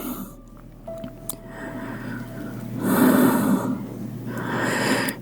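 Heavy breathing during a beginner stretching and core workout in child's pose, with slow, audible inhales and exhales swelling in two long waves over a steady low hum.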